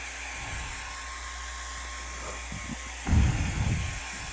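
A hair dryer drying the bottom part of a sunset mountain painting hums as a low, steady background whir, joined near the end by a few louder bumps and rustles close by.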